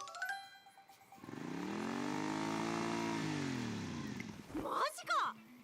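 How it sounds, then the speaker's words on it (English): Motorcycle engines roar in the Umamusume racing game, a sustained loud droning rev that swells and holds for a few seconds before fading, with brief game sounds and effects around it. "The roar we're hearing sure doesn't sound like a dinky little delivery bike."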